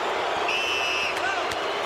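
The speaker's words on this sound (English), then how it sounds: "Crowd here responding to the picture of Lennox on the Jumbotron" At a boxing arena, a large crowd boos and murmurs at Lennox Lewis shown on the Jumbotron, a dense steady roar with a few sharp pops and distant whistles in it.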